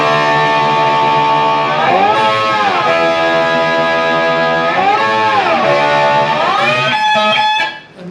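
An electric guitar with a slide and distortion plays the rhythm part of a song's solo: loud sustained chords that swoop up and down in pitch between held notes, continuous and close before cutting off at the end.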